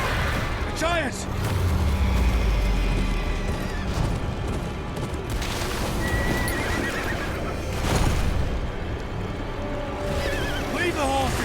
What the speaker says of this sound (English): Leave the horses!